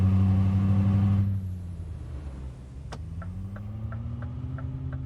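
A steady truck engine drone in Euro Truck Simulator 2 dips as the pitch drops, then rises again while a quiet, regular indicator ticking clicks along.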